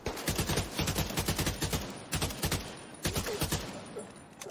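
An AK rifle fires rapid full-auto bursts in the video game The Division 2, loud and close, with three long strings of sharp rhythmic shots separated by brief gaps.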